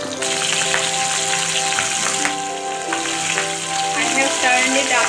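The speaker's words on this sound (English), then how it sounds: "putting it on mustard oil for frying. Let them fry nicely on one side, then we'll turn them over." Pabda fish frying in mustard oil gives a steady, close, full sizzle that holds evenly from start to finish, with no talking.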